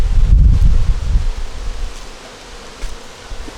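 Bees around a hive in cold weather, a loud low buzzing close to the microphone in the first second and a half, then a fainter hum with light rustling.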